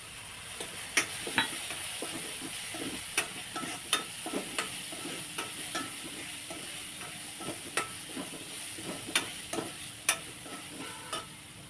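Onion and tomato sauté in oil with asafoetida for dal palak, a steady soft sizzle broken by repeated sharp clicks and scrapes of a spoon stirring against the pan, close and unaccompanied by talk.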